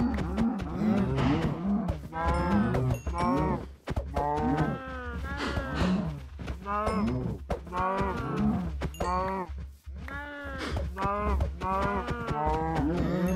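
Cows mooing in the video game Minecraft, a rapid overlapping series of loud bellowing moos continuing nearly without pause, with faint clicking and game sounds beneath.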